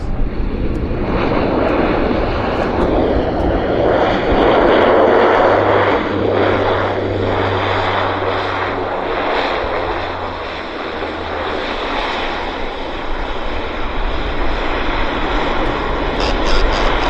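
Heavy aircraft engines roaring at Vancouver Airport, a loud continuous broadband rumble and whine that swells and slowly shifts over many seconds, with a low drone below and no talking.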